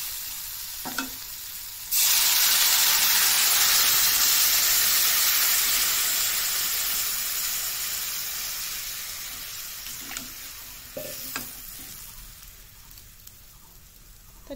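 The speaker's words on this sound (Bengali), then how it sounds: "জল দিয়ে দেবো পরিমাপ মতো।" Water poured into a pan of frying bitter gourd and potato curry, a sudden loud hiss and sizzle that starts abruptly and slowly fades over several seconds, with a few light utensil knocks.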